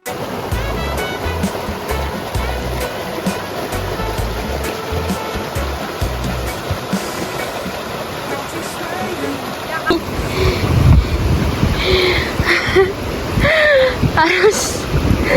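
Surf rolls in at Sawangan beach in Kebumen, with a shallow stream running across the sand and rocks. The wash is steady and loud, and the breaking water grows rougher and nearer toward the end.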